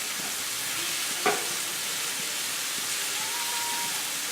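Food frying in a pan on steady high heat gives a constant, even sizzle. One brief clatter or scrape near the middle sounds like a quick flip.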